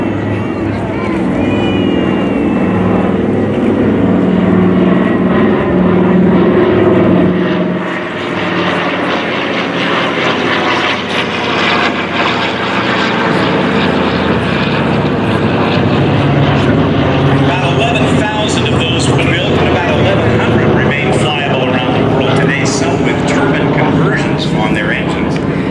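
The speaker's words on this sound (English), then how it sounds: "Here comes the C-47." A C-47 propeller airplane flies over during a WWII victory flyover, its loud droning piston engines swelling and holding steady for the whole stretch while a narrator talks over it.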